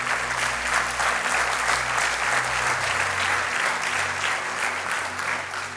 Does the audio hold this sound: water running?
no